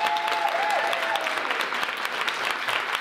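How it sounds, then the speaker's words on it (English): Audience applause for a writer at an opening ceremony honoring an author, a full, even burst of many hands clapping in a hall, sustained and fairly loud, with a faint tonal whistle early on. "I would just like to give her another round of applause."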